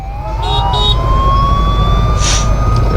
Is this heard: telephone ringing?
no